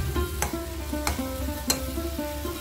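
Broccoli stir-fries in a pan, giving a soft, steady sizzle with three sharp scraping strokes of a spatula at regular intervals and a low background hum.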